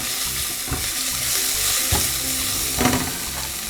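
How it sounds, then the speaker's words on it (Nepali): Ground cumin, coriander, chili and turmeric powders fry in hot oil in a pan, giving a loud, steady close sizzle with a few spoon scrapes and knocks as they are stirred; nobody speaks. "यो सबैलाई अब भुट्नुपर्छ मसलालाई।"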